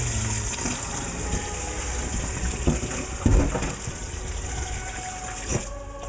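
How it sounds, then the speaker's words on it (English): Tap water gushes steadily into a cooking pot in a kitchen as it fills about two-thirds full, a continuous loud rushing flow with a few clunks partway through. "I'm going to go add some water to it."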